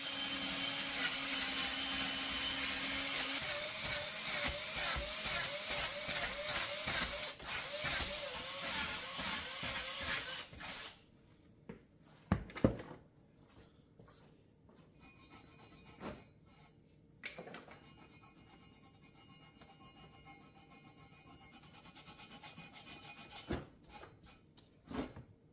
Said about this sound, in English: we're going to go ahead and clean this manifold up